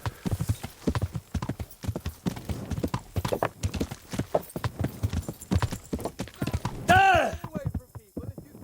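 Steady clip-clopping of horse hooves in Kingdom Come: Deliverance runs throughout, with a voice talking over it and a brief horse whinny near the end.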